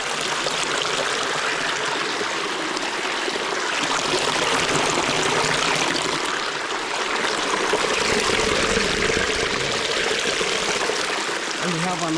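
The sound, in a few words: water spring flowing in a cave corner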